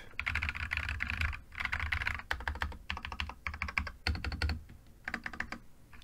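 Typing on a GammaKay LK67 mechanical keyboard fitted with Feker switches: bursts of quick, close keystrokes clatter in uneven runs with brief pauses between them, with no voices.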